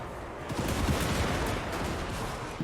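Dense massed gunfire from units in Total War: Warhammer II, a continuous crackling fusillade of overlapping shots rolling on loud and unbroken, with no voices.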